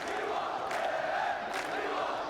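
A crowd at an esports EA FC 24 group-stage match roars and cheers steadily, a dense, sustained wall of voices with a couple of louder swells.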